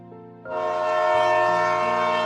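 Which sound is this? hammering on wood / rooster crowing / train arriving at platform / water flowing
train arriving at platform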